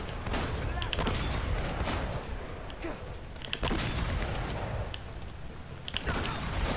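Shotgun blasts and other gunfire ring out in the video game Uncharted: Drake's Fortune, several sharp loud bursts at irregular intervals over a dense layer of game noise, with a voice talking in places.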